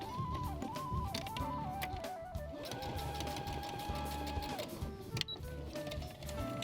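A sewing machine runs a seam on fabric with elastic in quick, faint mechanical bursts, its whirring pitch shifting between stretches of stitching.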